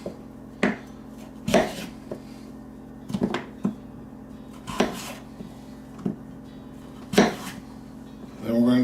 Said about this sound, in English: Just by slicing down through.